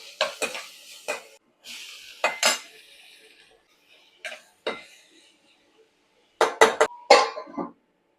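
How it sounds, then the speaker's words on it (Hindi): Cumin, green chilli and garlic are tempered in hot oil: a ladle clinks and scrapes against a metal pan in scattered bursts, with a soft sizzle between the sharp utensil knocks and quiet gaps. "फटाफट अब मैं इसमें लगा देती हूँ तड़का। ये डाल दिया मैंने, इसमें डाला जीरा, इसमें डालूंगी मैं हरी मिर्च और लहसुन।"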